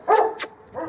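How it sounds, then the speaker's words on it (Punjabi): A very large dog gives a couple of short, sharp barks close by, with a brief pause between them and no talking. "ਤੱਕੋ ਜ਼ਬਰਦਸਤ ਕੁੱਤਾ ਬਹੁਤ ਬੜਾ ਜੀ"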